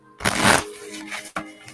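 Tarot cards being shuffled by hand, a loud riffling burst near the start, then softer rustling and a second short snap toward the end, with no talking.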